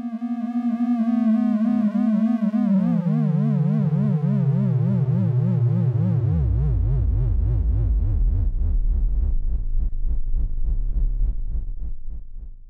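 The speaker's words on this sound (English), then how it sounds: "Let's start with some triangle waves." Triangle-wave tones from Eurorack synthesizer modules play alone as a buzzy, wobbling pitch. The pitch slides steadily downward into a loud, low drone that holds until a quick fade at the end.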